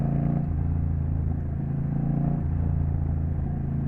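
Honda Rebel 1100 cruiser riding along backroads, a steady low engine rumble with wind noise, a slight shift in tone midway, close and continuous with no talk.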